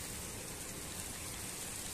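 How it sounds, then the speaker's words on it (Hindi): Heavy rain pours down in strong wind at an outdoor spot where a plant has just been set in the ground, a dense, steady hiss of drops filling the air evenly with no talking. "और ये देखिए कितनी तेज हवाएं चल रही हैं, बारिश बहुत तेज हो रही है।"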